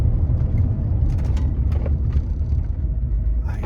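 A Range Rover driving on the road while bedding in new brake pads with frequent light braking: a loud, steady low rumble of engine and tyres from inside the cabin, with faint mechanical ticks and no talk.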